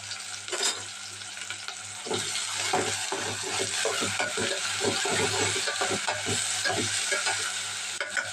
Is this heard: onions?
yes